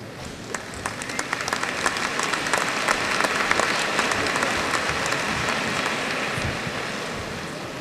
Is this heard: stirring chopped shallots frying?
no